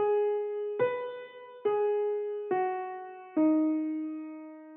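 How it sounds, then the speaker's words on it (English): A small piano melody from a hip-hop beat's hook, five sustained notes that step gradually downward, each struck cleanly and ringing on into the next, alone without voices. "Then you got a little piano melody that's going on in the hook that sounds like this."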